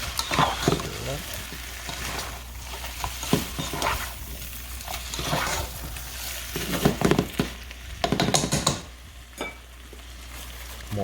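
Chicken being stirred with fish sauce in a hot pan, scraping and sizzling in irregular bursts near the listener, with a person talking between the strokes.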